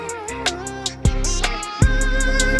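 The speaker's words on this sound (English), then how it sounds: "people take something called a limiter and they'll just throw it on their master bus here, and it will sound something like this here" A short music mix with a limiter thrown on the master bus plays with a steady beat and sharp kick hits that punch out of a sustained, squashed backdrop.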